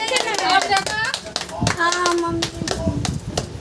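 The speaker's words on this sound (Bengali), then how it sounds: "হাততালি দাও সবাই, হাততালি দাও হাততালি দাও" Children and adults clap their hands in quick, uneven bursts at a home gathering, sharp close slaps mixed with lively talking and children's voices throughout.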